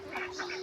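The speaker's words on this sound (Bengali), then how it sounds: "এই দেখুন এই মাত্র হাঁসগুলো ছাড়া হলো" Village ducks by a pond, heard in a brief, fairly close burst of a few nasal quacks over a faint steady hum.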